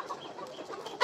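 Chickens on a poultry farm cluck softly and continuously, several birds overlapping at a quiet, close-up level.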